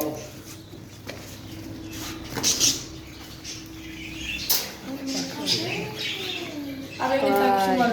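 Budgerigars chirp and squawk at a breeding facility, bursts of bright twittering coming and going and swelling into a dense chatter at the end, with people talking throughout.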